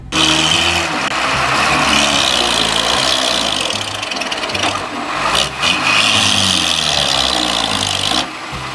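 A toy dump truck gives off a loud, continuous electronic engine sound with a steady rumble and rasping texture. It briefly dips near the middle and again at the end and plays alone, with no talk.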